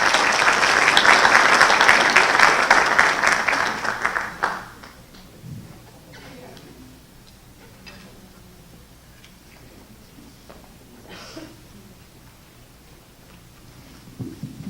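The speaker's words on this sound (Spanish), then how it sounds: "Pido un fuerte aplauso" Seminar audience at an international legal seminar in Mexico gives a strong round of applause for about four seconds before it fades out, leaving a quiet room with faint movement and scattered small noises.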